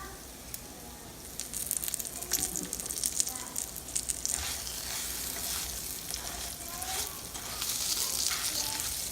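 Rice for Mexican rice browns in a pan on a gas stove, a continuous crackling sizzle with scattered sharper pops that grows slightly louder toward the end.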